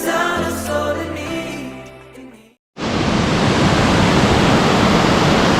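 Dudhsagar waterfall roars after a stretch of music cuts out, a loud, dense, unbroken rush of falling water seen from the top of the falls.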